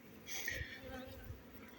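Honey bees hum from inside a beehive in a low, steady drone, faint and close, with a brief higher buzz near the start as one flies past.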